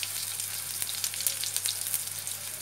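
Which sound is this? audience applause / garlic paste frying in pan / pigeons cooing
garlic paste frying in pan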